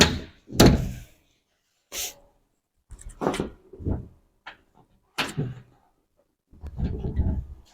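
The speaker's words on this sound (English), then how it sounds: "I'm going to close the compartment door so we can check the back of the bus next." A bus compartment door is swung shut during a Class B vehicle inspection, giving several sharp, loud thuds and latch clunks spread over several seconds with quiet gaps, heard close by and alone.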